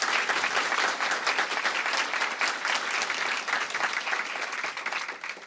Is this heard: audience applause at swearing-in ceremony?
yes